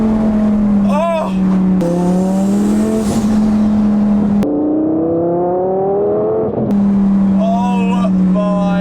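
Twin turbo Lamborghini engine revving hard and downshifting, with loud sustained engine tone rising and dropping as gears change and sharp blips between shifts, heard from inside the car.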